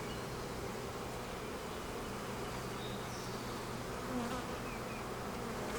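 Honey bees buzz steadily in an open hive in spring, a dense continuous drone close by with no talking.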